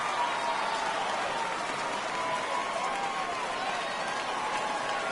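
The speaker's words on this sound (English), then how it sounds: "The home crowd going pretty good here tonight, making them happy." A home crowd at a minor-league baseball game between the Amarillo Sod Poodles and the Midland Rockhounds cheers and claps at night, giving a steady, dense roar of applause and voices throughout with no break.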